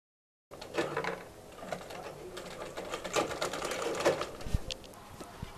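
A sewing machine stitches the side seam of a lehenga made from an old sari, its fast rattling run starting abruptly and continuing steadily with small pulses, fairly quiet and close, without talk.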